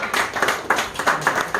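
Clapping from a crowd greeting a guest at a prize-giving function in India, a short burst of fairly close, uneven hand claps with a loose rhythm and no talking.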